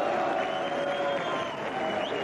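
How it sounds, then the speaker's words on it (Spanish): Audience applause and crowd noise for performers at a comedy sketch show, a loud continuous wash of clapping with some cheering voices mixed in. "Le vamos a dar un gran aplauso a Ernesto Belloni, Che Copete."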